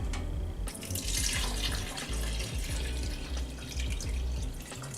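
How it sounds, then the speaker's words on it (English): Water runs steadily from a kitchen tap into a cooking pot holding tamarind for a homemade tamarind sauce, a continuous close splashing stream that starts abruptly and carries on to the end, with no voices. "Add some water."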